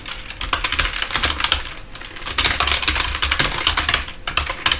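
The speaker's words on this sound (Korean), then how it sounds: "여러분들 좀 타자 입력을 이제 들어갈 건데" Rapid typing on a computer keyboard, a dense, continuous clatter of close key presses with brief pauses, no voices.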